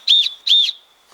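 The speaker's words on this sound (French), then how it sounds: "le son d'un sifflet porte 5 fois plus loin que le son de la voix" Two sharp, shrill whistle blasts in quick succession, loud and close, each lasting about a quarter second, then silence.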